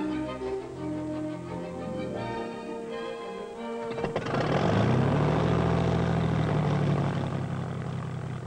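A light propeller training plane grows louder into a strong, close engine drone that holds steady over several seconds, after a quieter stretch at the start.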